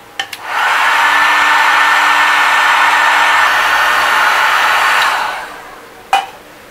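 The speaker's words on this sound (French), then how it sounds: "à l'aide de mon décapeur thermique, je vais chauffer cette partie-là" A heat gun blows a loud, steady whooshing hiss while heating a metal part to fit a ring, running about four seconds near the microphone before cutting off, with a few clicks around it.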